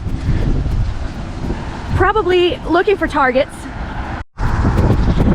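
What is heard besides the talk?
strong wind blowing into the microphone outdoors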